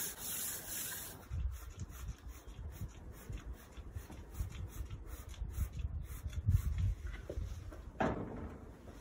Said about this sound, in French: Quand vous passez votre main, si vous entendez les contaminations, si vous les entendez, c'est qu'il y en a vraiment beaucoup.